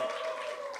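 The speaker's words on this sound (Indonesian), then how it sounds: "Berikan tepuk tangan yang panjang" Brief burst of dense applause from a church congregation during an Indonesian-language sermon, steady and moderately loud across the short span.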